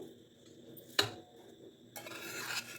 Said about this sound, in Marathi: आता हे मिश्रण मी एका प्लेटमध्ये काढून घेते